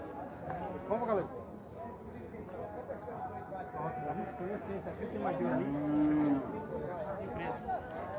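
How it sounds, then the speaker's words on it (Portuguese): Cattle moo at a livestock fair in Campina Grande, with a couple of drawn-out lows, one early and one loud near the end, over a crowd of men chatting nearby. "O primeiro é um boi."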